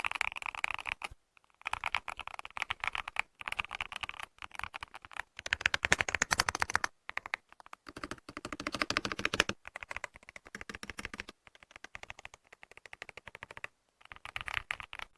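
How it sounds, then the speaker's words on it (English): Rapid typing on a silicone-sleeved keyboard in bursts of soft, muted clicks, with brief pauses between runs of keystrokes, close and fairly quiet. "Let's listen to one of its typing sounds."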